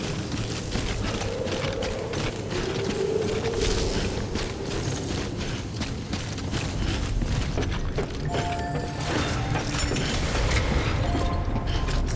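Suit decontamination machinery in the video game Death Stranding runs steadily, with mechanical whirring, ratcheting clanks and creaks that hold a constant, loud level throughout.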